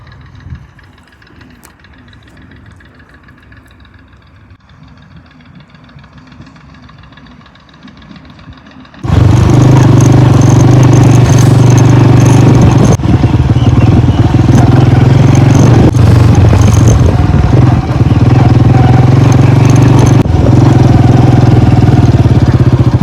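A motorcycle arriving at a family home starts up after a quiet stretch, then runs loud and close with a steady, rough mid-pitched rumble for the rest of the time.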